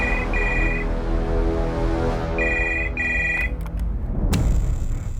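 A telephone rings during a call, bright repeated electronic ring bursts with short gaps over a loud steady background, ending in a sharp click.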